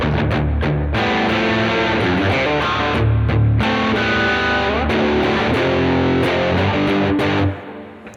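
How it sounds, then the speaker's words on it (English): Distorted rock guitar chords played as a riff, with the guitar body pressed and pulled to bend long chord notes slightly out of tune, loud and sustained with short gaps, then a fading tail, no talk. "Now I press against the guitar and pull the guitar away to get this slight detune effect."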